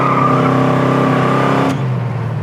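A 1973 Plymouth Cuda with a 472 crate Hemi accelerates hard, its engine roaring loud and close as the pitch climbs steadily before an abrupt shift drops it to a lower tone.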